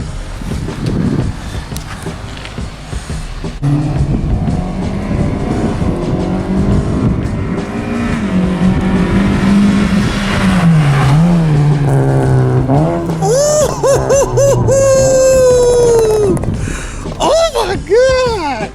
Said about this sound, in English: he just got his muffler, that Magnaflow, and he sounding good